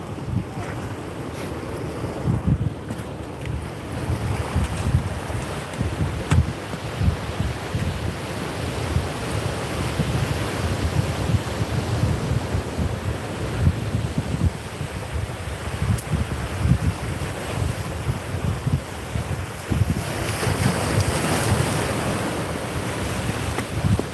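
Ocean waves and surf from an incoming tide at Seal Beach: constant, booming, crashing white water with gusts of wind buffeting the microphone, and no voices.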